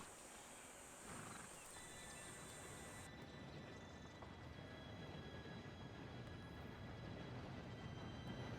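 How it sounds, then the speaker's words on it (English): A steam train arriving in the video game Red Dead Redemption 2, a steady rumbling and rolling din with faint high whistling tones above it, growing slightly louder as it nears. "Train should be here any minute now."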